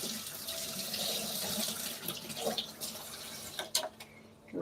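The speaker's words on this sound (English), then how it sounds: "I just wash my hands." Hands are washed under a running kitchen tap, a steady close rush of water with splashing that shifts as the hands move, ending in a few sharper splashes.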